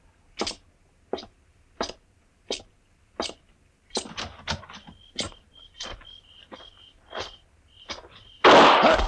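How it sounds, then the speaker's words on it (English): Sharp gunshot effects in a Western radio drama set in a frontier town: a series of distinct loud cracks spaced about a second apart, followed by a quicker burst of shots and a final loud blast of noise. "Mr. Dillon, you've been shot."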